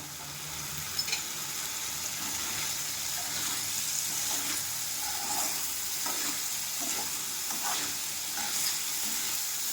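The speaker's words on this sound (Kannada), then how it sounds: "red bell pepper green bell pepper ಹಾಗೆ ಯೆಲ್ಲೋ ಬೆಲ್ ಪೆಪ್ಪರನ್ನು ಹಾಗೆ ಕಟ್ ಮಾಡ್ಕೊಂಡಿರೋಂತಹ ಈರುಳ್ಳಿಯನ್ನು ಸೇರಿಸ್ತೇನೆ" Red, green and yellow bell peppers with onion fry in a pan for a paneer roll filling, giving a steady, close sizzle with light stirring scrapes throughout.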